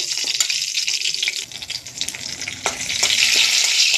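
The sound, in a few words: bay leaf and dried red chilli frying in oil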